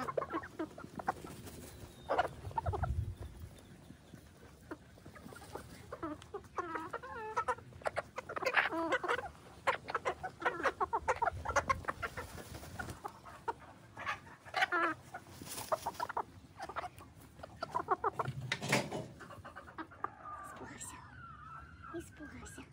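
Mini meat fawn chickens and a rooster cluck and murmur close by in a farmyard, with soft bursts of fowl calls scattered throughout while a person speaks quietly.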